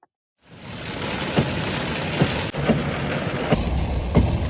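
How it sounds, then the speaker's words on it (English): Heavy rain pours steadily, drumming hard on a surface, with a low engine hum underneath and occasional thumps and knocks close by. "we had a torrential downpour"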